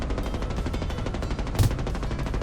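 An aircraft gunner firing a machine gun in Nuclear Option, a dense, rapid, continuous stream of shots kept up through the whole moment at close range, with one sharper crack standing out partway through.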